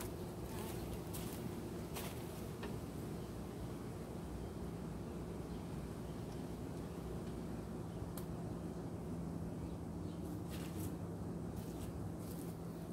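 Steady, low insect buzzing fills the whole stretch, a dense hum of many honeybees close by around a hive, with occasional brief louder passes.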